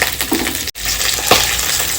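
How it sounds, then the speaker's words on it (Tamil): Sambar being stirred in a cooking pot, a thick, spiced lentil stew with water added, giving soft scraping and bubbling sizzle with a brief gap midway; no talking. "கொஞ்சம் கிளறி விட்டுறேன்."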